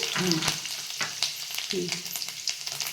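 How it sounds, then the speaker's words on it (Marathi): Mustard seeds, cumin and curry leaves crackle and pop in hot oil for a spicy village-style brinjal dish, a dense close sizzle punctuated by sharp spattering bursts, with brief stirring scrapes. "जिरी मोहरी कढीपत्ता चांगला तरटून द्यायचा ना"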